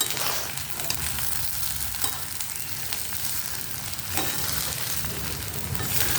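Soaked rice is stirred and fried in a pan until the water dries off, giving a continuous close sizzle with soft scraping from the stirring.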